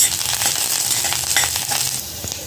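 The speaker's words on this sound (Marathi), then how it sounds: "ह्या तेलामध्ये टाकते आहे आणि अगदी दोन मिनटं हा परतवून घेते" Chopped garlic sizzles and crackles steadily in hot oil, a close, continuous frying hiss with occasional sharper pops as it is stirred in the pan.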